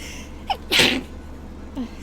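A single loud, close sneeze with a short sharp intake of breath before it, followed by a faint exhale.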